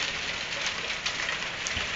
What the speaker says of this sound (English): I think it just turned over to rain now.